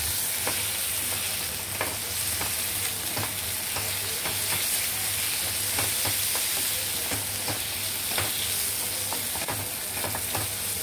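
Spices and ginger-garlic paste being stirred in a hot frying pan for a home-style dish, a steady sizzle under repeated scraping and clinking strokes of the spoon against the pan, close and continuous with no talk.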